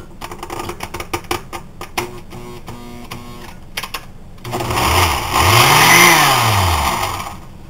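A food processor motor starts after some rattling and clattering, then whirs loudly with its pitch rising and falling as the blade strains against fresh basil and herbs too dry to turn it.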